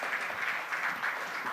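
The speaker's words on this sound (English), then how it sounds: "Can we please welcome him with a warm round of applause?" Soft, distant applause from an audience at an industry event on gender portrayal, a brief, even wash of clapping with no distinct individual claps and no voices.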